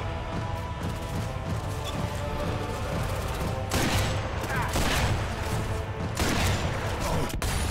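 Gunfire in the remastered sniper shooter Sniper Elite V2, with bursts of rapid shots crackling under a steady noisy background, loudest in two stretches midway and near the end.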